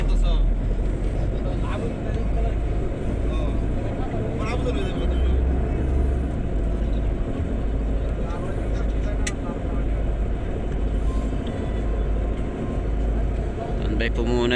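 Highway traffic at night, heard as a loud, steady, low road-and-engine rumble that holds without a break, with faint voices beneath it.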